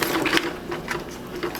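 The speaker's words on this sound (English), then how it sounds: "Okay, then you take your little crimper and you just crimp down really hard." A small hand crimper clamps a connector onto Flexwatt heat tape for a snake rack, giving a short burst of close, crunchy ratcheting clicks heard alone.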